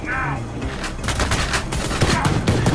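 The Loverboy pistol fires in the retro shooter Ion Maiden, a fast string of loud sharp shots with booming low end, continuous through the moment over game sounds.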